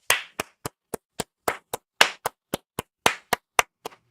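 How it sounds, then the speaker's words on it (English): A single person clapping hands, about sixteen sharp, close claps in a steady, slightly uneven rhythm with no other sound. "Give a round of applause for Jacob fucking Martin"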